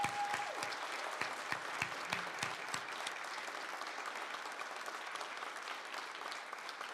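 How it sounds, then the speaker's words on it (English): Audience at a morning career-program winners announcement gives a round of applause, steady moderately quiet clapping filling the room with a few sharper claps near the start. "Let's give them a round of applause as well."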